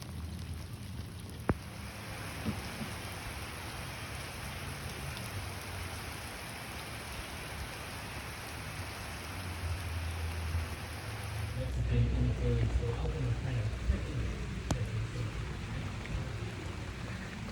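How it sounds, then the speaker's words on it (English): Heavy rain pours down outdoors after a hot day, a steady dense hiss that swells louder partway through, with occasional sharp drips and low rumbles. "we're back down to pouring. I don't know if you can see all the rain coming down"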